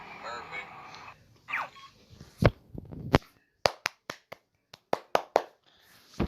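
Sharp, sparse claps ring out in quick bursts after some game sounds, crisp and synthetic like applause effects in the Stickman Complex escape video game.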